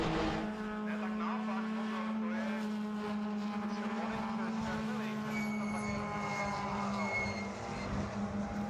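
Suzuki Swift Cup race cars at a circuit, a sustained engine drone with a strong steady tone and shifting higher harmonics as cars pass, under continuous race commentary.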